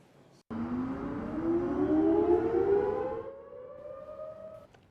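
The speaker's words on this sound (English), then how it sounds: "The sirens were set off on Tuesday to make sure the system was ready to go in case of a tornado warning" An outdoor tornado warning siren test on a Texas Tech campus, starting abruptly and holding a loud, wailing tone that slowly rises in pitch and then fades, heard in the open with no voices.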